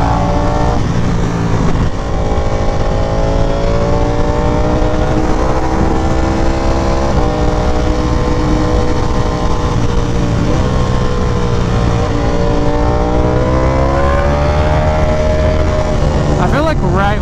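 Ducati Panigale V4R motorcycle engine revving while riding, a loud continuous drone with pitch sweeping up and down through gear changes, close and unbroken throughout, with a rider talking over it.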